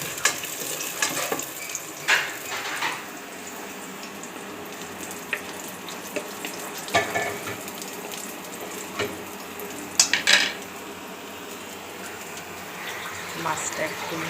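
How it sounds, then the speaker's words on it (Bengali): Onion and dried red chili fry in oil for a mashed potato dish, giving a steady low sizzle with intermittent clinks and stirring scrapes, alongside running water and faint background voices. "এই যে আলু ভর্তার জন্য একটু পেঁয়াজ শুকনো মরিচ ভেজে নিচ্ছি"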